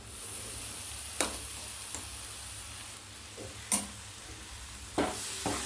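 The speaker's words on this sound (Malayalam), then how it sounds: "അതിട്ട് നന്നായിട്ട് വഴറ്റിയെടുക്കാം" Ground coconut paste sautés in a pan with a soft, steady sizzle, punctuated by a few sharp scrapes and clacks of a spoon stirring, close and quiet, without voices.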